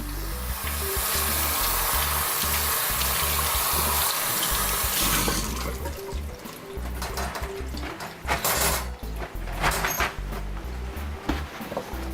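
Asparagus rinsed under a running kitchen tap, a loud steady gush of water that shifts to a spattering, uneven splash as the spears move through the stream, close by.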